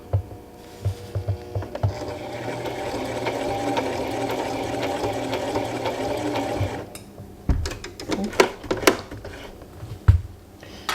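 A Brother 3817 sewing machine stitches a blind hem, its needle running in a steady, loud mechanical whir for several seconds before stopping, then a few clicks and handling knocks follow.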